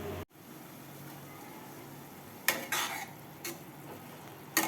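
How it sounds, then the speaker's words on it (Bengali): Spiced shrimp and banana-stem curry being stirred in a pan, a quiet background with a few soft scraping and clinking strokes of the spoon against the pan, spaced irregularly toward the end. "একটু নেড়ে চেড়ে নিচ্ছি"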